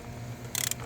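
A ratchet clicks briefly in a quick burst of close, crisp pawl ticks while tightening bolts on the water pump of a 2013 Lincoln MKS 3.7L, after a low hum.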